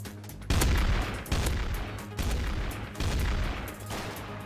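Bursts of gunfire from the multiplayer shooter game Trouble in Terrorist Town, several loud rapid volleys in quick succession with brief gaps between them, no voices over the shots.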